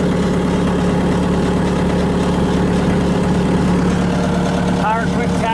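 A 2007 Bobcat S300 high-flow skid steer loader with a Kubota engine idles steadily and close by, a constant low rumble with no pauses, plus a brief chirping sound near the end.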